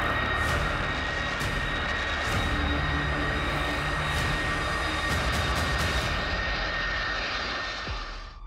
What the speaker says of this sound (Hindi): ये है दुनिया के सबसे शक्तिशाली शख्सियत का सबसे बलशाली विमान। नाम है एयरफोर्स वन